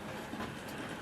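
A small Hornby Jinty model locomotive runs along a layout track with a faint, steady rolling rattle and clickety-clack, heard quietly with no voices.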